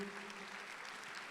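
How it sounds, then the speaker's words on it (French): An audience claps at a thesis competition finale awards ceremony in Morocco, a brief, faint spatter of applause with a hint of a voice underneath. "vous pouvez applaudir."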